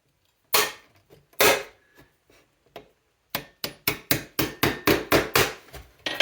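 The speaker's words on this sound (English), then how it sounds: "I won't hammer them in all the way on the front right now" Sharp hammer blows nailing a metal strainer plate onto a wooden saddle tree: two separate strikes, a pause, then a quick run of about ten evenly spaced, ringing hits.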